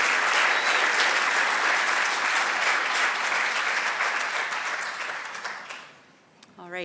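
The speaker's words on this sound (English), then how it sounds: "I'd ask everyone to give him a round of applause." A room full of people applauding, dense steady clapping that gradually thins out and fades near the end, followed by a voice starting up.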